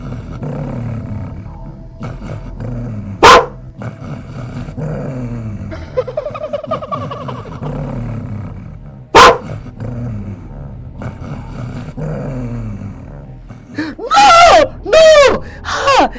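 A boy imitates a dog, voicing loud bark-like yelps and growling cries from inside a bush, with several sharp outbursts breaking over an ongoing rough vocal rumble and a final cluster of high yelping calls.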